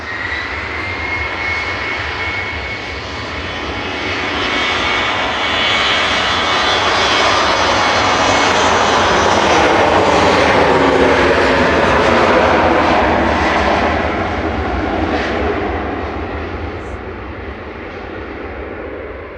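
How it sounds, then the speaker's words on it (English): A Finnair airliner departs Manchester Airport for Helsinki, its engine roar swelling loud and broad as it passes fairly close, then slowly fading as it climbs away. "Finnair heading back to Helsinki with flight"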